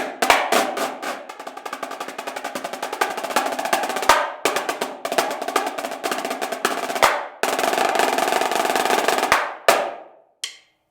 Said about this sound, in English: I have 10 marching snare drums, and altogether they sound like this.